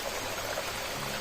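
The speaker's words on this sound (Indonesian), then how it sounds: "di hutan ini kita menemukan sebuah aliran sungai" Steady rush of a stream in a Sumatran tropical forest, a continuous broadband wash of flowing water heard alone at moderate volume.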